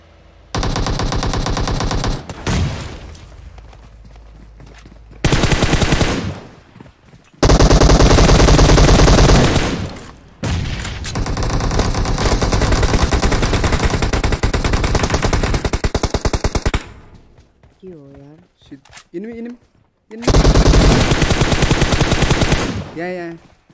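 Video game gunfire, with long sustained bursts of loud automatic fire and single shots, some stretches of rapid fire running several seconds, broken by brief quieter gaps.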